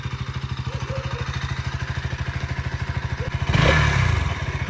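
A KTM Duke 200 motorcycle engine idles with a fast, even exhaust thump, then briefly revs louder before settling back; close and steady, no talking.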